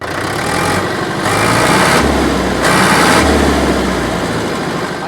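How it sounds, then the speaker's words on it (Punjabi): An HMT 5911 tractor from 2003 running close by: a loud, steady diesel engine whose pitch swells and eases twice as it revs, with no voices over it. "ਆਵਾਜ਼ ਵੀ 911 ਵਾਲੀ ਆ ਜਿਹੜੀ ਸੀਟੀ ਜੀ ਮਾਰਦਾ ਹੁੰਦਾ ਉਹ ਆਵਾਜ਼ ਆ ਇਹਦੀ"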